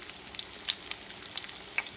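Thin veal cutlets sizzling in a hot pan for Milanese, a steady soft frying hiss with scattered sharp pops and crackles, close and moderately quiet with no talking.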